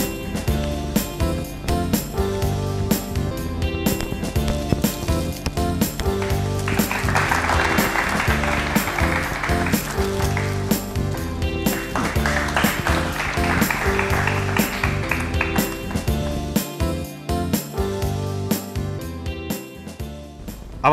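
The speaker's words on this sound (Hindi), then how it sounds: "जोरदार तालियां हो जाएं इनके लिए।" An audience at a Hindi quiz show applauds a contestant who answered correctly, with sustained, fairly distant clapping that swells and continues for a long stretch under background music.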